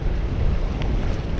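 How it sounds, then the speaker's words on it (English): Strong wind buffets the microphone on an open lake while fishing from a rental boat on Leech Lake, a steady broadband roar with water slapping faintly underneath and no talk. "it's windy out"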